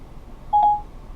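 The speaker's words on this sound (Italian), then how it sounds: "Quindi adesso sta chiamando Enzo, ora chiudo la telefonata." Dial tone played through Apple CarPlay in a VW Polo as a phone call is placed: a single steady electronic tone lasting about a quarter second, clear over a faint hum, with no talk.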